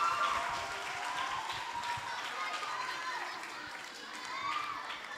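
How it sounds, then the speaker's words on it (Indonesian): A school audience claps for a guest at a student poetry event, a dense burst of applause holding steady for several seconds and easing slightly toward the end. "Beri tepuk tangan dong pada Pak Refli."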